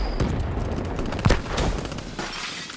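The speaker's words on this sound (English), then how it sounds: "That random sniper is just going off" Sniper rifle fire in an online shooter game: a loud, dense burst of gunfire and impact crashes, with one sharper heavy shot near the middle before the noise thins out.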